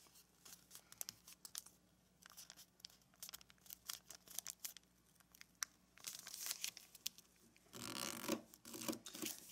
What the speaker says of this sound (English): let's fold this flap up to these two edges